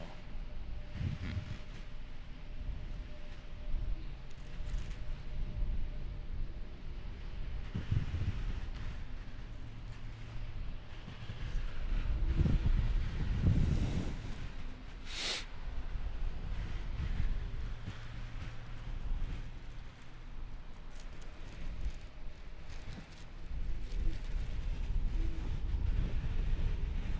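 Strong storm wind gusts at Raleigh-Durham International Airport, a deep, rough rumble that swells and fades across the stretch, buffeting the microphone.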